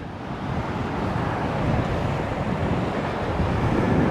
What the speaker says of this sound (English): you can see how angry the seas are right here behind us